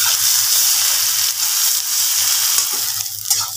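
Chopped onions sizzle loudly in hot oil in a pan for a knife fish curry, with a steady bright hiss broken by the scrape of stirring, close and alone.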